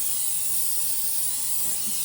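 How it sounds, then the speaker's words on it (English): Cooking spray sprays onto a baking pan in one continuous close hiss lasting about two seconds, heard alone without talking. "And you're going to spray this pan."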